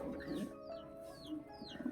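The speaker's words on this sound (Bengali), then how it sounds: "গাইস, এই কবুতরটা দেখছো, এটা একজনের কবুতর।" A pigeon coos softly in a loft during hot weather, low warbling calls rising and falling over two seconds, with faint chirps from other birds nearby.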